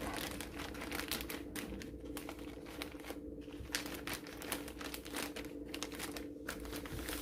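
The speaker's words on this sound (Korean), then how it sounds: "식은 거 먼저 여기 지퍼백에 이렇게 담아주겠습니다." A plastic zipper bag crinkles steadily up close as homemade mugwort injeolmi rice cakes are packed into it, a soft continuous rustle with no voice over it.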